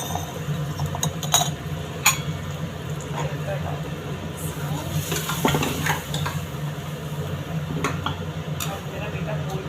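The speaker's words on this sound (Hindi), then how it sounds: "रसोई में तो काम चलता रहता है, रसोई में बर्तन होते रहते हैं।" Pots and pans clink and clatter intermittently in a home kitchen while a tadka is made, a few sharp metallic knocks over a steady background hum, with someone talking in Hindi throughout.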